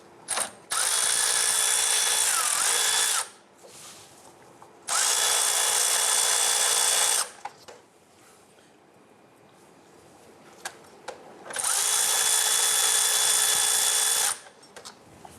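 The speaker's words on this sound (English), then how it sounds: "We're going to use a 17mm socket, and we're going to loosen that." A power ratchet or impact driver with a 17mm socket loosens the belt tensioner bolt on a 1997-2006 Jeep Wrangler, sounding in three loud, steady whirring bursts of a few seconds each, separated by quiet pauses.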